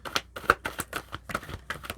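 Oracle card decks shuffled by hand, giving a quick run of soft riffling bursts and light card slaps, close and fairly quiet, with no talking.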